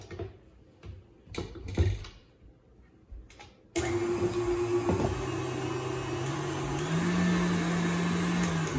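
A stand mixer fitted with a paddle beats banana bread batter, starting abruptly after a few light handling knocks and then whirring steadily and loudly at close range, with a steady motor hum throughout.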